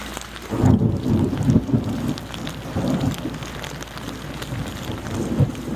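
Heavy rain pours during a thunderstorm, with rolling low rumbles of thunder swelling and fading under the constant close hiss of rainfall.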